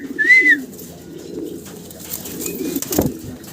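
A pair of fancy Modena pigeons coo close by, soft low rolling coos spread across the moment with a brief higher chirp and a faint rustle.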